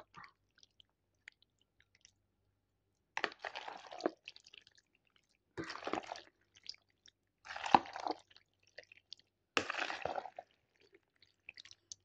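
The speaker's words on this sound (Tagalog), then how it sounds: "Haluin ko siyang maigi para ma-mix po yung ano niya, yung ingredients niya po." Wet squishing and sticky stirring of macaroni salad ingredients being mixed in a bowl, in four separate bursts with quiet gaps, close and fairly soft.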